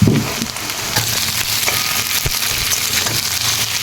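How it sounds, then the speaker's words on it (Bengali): Potatoes fry in hot oil in a wok with onions already browned, making a close, dense sizzle with light scraping and stirring knocks over a few seconds. "আলুগুলো একটু ভেজে নেব"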